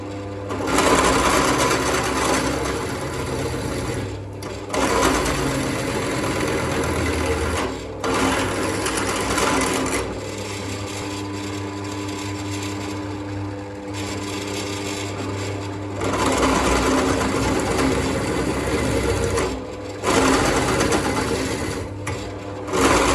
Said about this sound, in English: I'm going to show some footage of me using my drill press